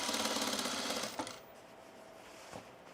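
A sewing machine topstitches a sunblock top with a fast, close, rattling whir for about a second, then stops, leaving quieter handling sounds.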